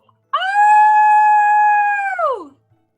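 A person's voice imitates an animal howl: a single loud, sustained tonal cry lasting about two seconds, then sliding downward and fading out, heard alone.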